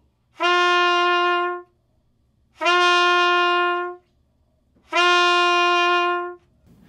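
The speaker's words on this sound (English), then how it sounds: "honking is where we start the note without the tongue and we use like a, a who articulation" Three sustained trumpet notes, each about a second long, start softly without tonguing or a crisp attack and are separated by short pauses of silence.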